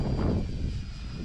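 An E-flite Timber Turbo RC plane with landing flaps flies through gusty wind, its motor roar loud at first and then easing off, mixed with wind rush over about a second.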